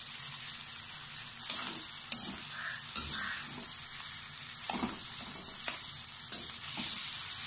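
Potato and onion frying in a pan for aloo bhurta, a quiet steady sizzle with repeated spatula scrapes and taps as the mixture is stirred and turned.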